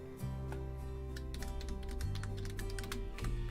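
Close, crisp clatter of typing on a computer keyboard during Planet Zoo play, rapid key clicks in short irregular runs over a constant low background drone, with no voices.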